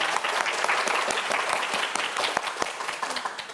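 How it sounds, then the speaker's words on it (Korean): A studio audience at a televised quiz show applauds loudly and continuously, dense clapping that holds steady from start to finish with no talk over it. "큰 박수 보내주세요"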